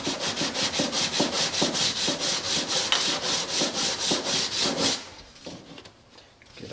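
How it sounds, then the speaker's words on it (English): A long piece of wood is sanded smooth by hand with rhythmic back-and-forth rasping strokes at about two per second, loud and close, before slowing to a few softer scrapes. "I think I'm going to sand it smooth just a bit."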